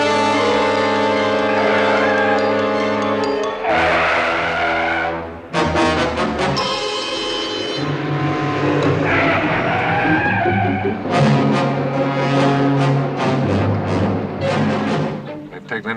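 A car pulls away and skids on a rough hill road while its brakes are failing, with loud tire and engine noise running continuously under a dense dramatic music score.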